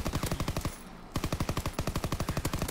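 Automatic gunfire in a shooter video game: two close, loud rapid bursts of evenly spaced shots, the first cut by a brief pause before the second burst resumes at the same fast rate.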